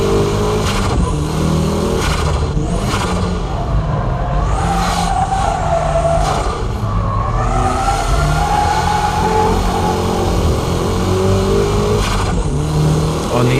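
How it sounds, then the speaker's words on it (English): A car power-drifting uphill, its engine revving hard and continuously at high volume, with surging pitch changes and rough tyre and road noise throughout. "from here, it's power drifting. I'm going uphill here"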